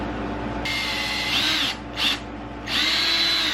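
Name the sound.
drill pre-drilling through a wood block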